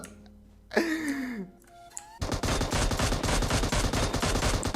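Rapid automatic gunfire from PUBG Mobile starts abruptly and rattles on steadily for several seconds, loud and dense, after a short stretch of other game sounds and whooshes.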